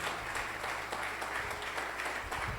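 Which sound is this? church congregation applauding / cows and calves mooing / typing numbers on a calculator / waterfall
church congregation applauding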